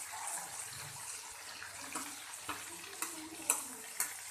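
Chicken pieces with curry leaves frying in a pan hiss softly and are turned over, giving a steady sizzle broken by several light knocks and clinks of a utensil against the pan.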